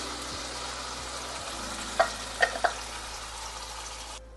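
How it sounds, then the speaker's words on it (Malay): Steady hiss of blended spice paste frying in hot oil, with a few clinks of a utensil stirring in the pan, ending abruptly. "Kita nak tumis dulu bahan-bahan yang kita blend tadi."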